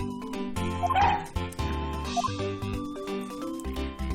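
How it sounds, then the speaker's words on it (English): A police dog in the Ace Attorney Investigations video game gives a run of quick yips and barks with a whimper, part of a busy game soundtrack, close and clear. "our police dog that dashes out in front and attacks"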